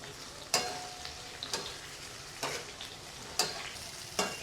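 Dhokla pieces sautéing in a pan with lemon juice and red chilli, giving a steady sizzle with several sharp stirring scrapes of a spoon against the pan, close and clear with no talk.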